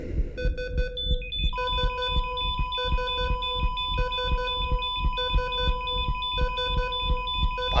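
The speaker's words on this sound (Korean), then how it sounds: "그 삐 소리가 점점 느려지고 있어요." Repeated electronic beeps from the Korean horror game Araha: Curse of Yieun Island, a steady rhythmic pattern of tonal alarm-like pulses over a dense game soundtrack, with no talking.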